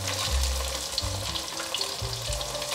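Cornstarch-coated potato slices frying in hot oil, a close, continuous sizzle and crackle with occasional stirring clatter and soft low knocks.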